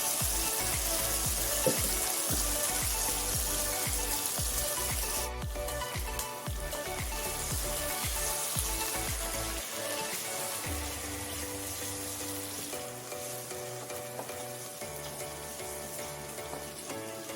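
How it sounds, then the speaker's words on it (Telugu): Tomato pieces fry in oil in a pan for cashew paneer masala curry, a constant close sizzle broken by rhythmic scraping and clattering as they are stirred, which eases off partway through. "అదే ప్యాన్లో కొంచెం ఆయిల్ వేసుకొని ఇలా మిక్స్ చేసిన టమాటా ముక్కలు వేసేసుకోవాలి"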